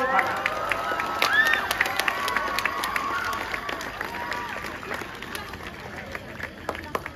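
Students at an outdoor school ceremony for Youth Pledge Day and a student council inauguration clap in a loose, fairly distant round of applause, with scattered shouts and chatter mixed in.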